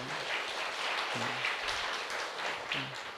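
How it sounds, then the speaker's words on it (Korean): Soft, steady applause from a church congregation welcoming a young man, a faint even patter of clapping with brief murmurs of voice underneath. "박수로 좀 환영 좀 하셔요"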